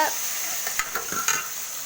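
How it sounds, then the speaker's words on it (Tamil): Chopped tomatoes stirred into hot oil in a pan, a steady sizzle with a few scraping spoon strokes and light clinks against the metal. "நம்ம 3 நறுக்கி வச்ச தக்காளி போட்டு நல்லா கிண்டி விட்டுக்கோங்க"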